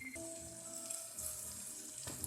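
Butter dropped into a hot pan with a little water left in it sizzles and spits in a short, steady burst of frying, close by.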